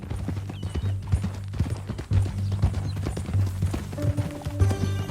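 A horse in Red Dead Redemption 2 clops along steadily at a walk, hooves striking in a regular rhythm over a low ambient hum, close by with no talking.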